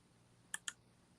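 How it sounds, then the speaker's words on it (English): Two quick computer mouse clicks about a tenth of a second apart, crisp and close, standing alone against a quiet room background. "I'm literally clicking through everything"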